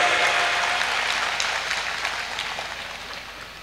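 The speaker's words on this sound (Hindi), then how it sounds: "एक बार जोरदार ताली बजाओ सूरवीर योद्धा के लिए।" Loud audience applause at a comedy show honoring a martyred soldier, dense continuous clapping that gradually fades, with no voices over it.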